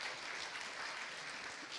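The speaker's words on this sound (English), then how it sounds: "Let's give them a round of applause for their work." A church congregation claps for its board members during a January congregational meeting at a Mennonite church, a steady, even wash of many hands that holds at a moderate distance throughout with no talking.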